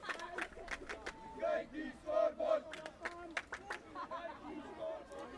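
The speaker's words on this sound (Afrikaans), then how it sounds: "Die skare hierso wat mekaar 'n goeie go gee op die GS-beker." Spectators at a school under-16 rugby match for the GS Cup shout and cheer in a loose, shifting chorus, with a few louder bursts rising out of the general crowd chatter and calls.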